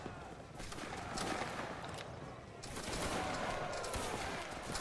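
Musket volleys in a Roblox Napoleonic battle game at Waterloo, dense overlapping crackling shots rolling continuously at moderate distance, swelling louder after a brief lull midway, with no clear speech.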